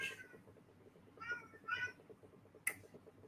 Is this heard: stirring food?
no